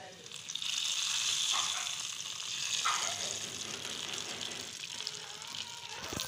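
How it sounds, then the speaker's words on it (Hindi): Hot tarka sizzles as it is poured over dish-out daal saag made with spinach and real ghee, a steady loud crackling hiss that holds for several seconds with faint watery bubbling underneath. "इसमें भगार ऐड कर रहे हैं।"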